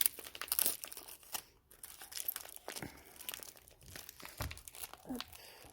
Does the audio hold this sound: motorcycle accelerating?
no